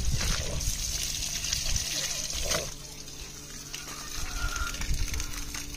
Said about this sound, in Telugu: సో కింద నుంచి కూడా పైకి అయితే వాటర్ కొట్టేస్తున్నాను.